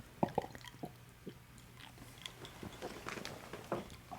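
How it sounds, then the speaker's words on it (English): A drink is gulped right against a microphone, giving a few close, wet mouth clicks and swallowing sounds that are quiet and scattered, with no talking. "I just swallowed into this mic. It's so loud."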